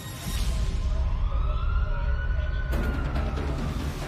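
A sheriff's deputy's police siren wails steadily, its rising and falling tone loud and continuous, with a sharp shift in the sound partway through as the vehicle passes or switches pattern.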